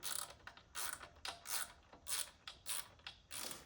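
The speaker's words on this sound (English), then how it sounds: "I'm gonna torque these evenly so that the motor isn't sitting crooked." A ratchet wrench clicks in short repeated bursts while torquing valve cover bolts on a BMW N52 engine in an E91, close and fairly quiet with no talking.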